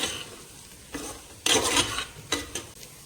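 Soya chunks stirred into masala in a pan for a soya gravy, a few scraping, clattering strokes of a spoon against metal over a light sizzle, with no one talking.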